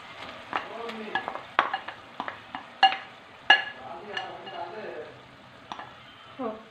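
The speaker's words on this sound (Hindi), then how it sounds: "अब मैं इसके अंदर चने की दाल डाल दूंगी, जो कि यहाँ पर मैंने बॉईल करके रखी हुई है।" Boiled chana dal is tipped into a pan of fried masala and stirred, giving a steady sizzle broken by sharp clatters of a spoon against the pot, close and moderately loud, with no talk.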